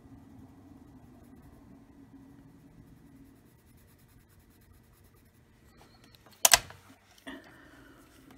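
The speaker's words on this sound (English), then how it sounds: "Dropping the pencils, sorry." A single sharp clatter of colored pencils falling onto a surface, with a smaller knock just after, following quiet scratching of pencil on paper.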